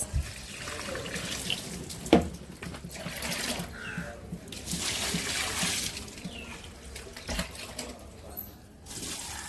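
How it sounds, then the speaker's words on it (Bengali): Water poured from a bucket onto potted garden plants on a balcony, a soft running trickle and splash with a couple of sharper knocks and clatters against a quiet background. "সব গাছেই পানি দিয়ে দিচ্ছি যে"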